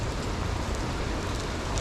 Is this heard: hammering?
no